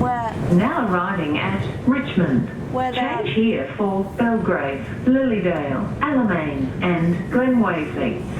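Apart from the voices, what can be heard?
None of the usual background noises is heard.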